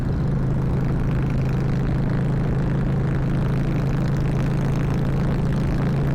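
A motorcycle engine drones steadily and loud throughout, a continuous low hum blended with rushing wind noise.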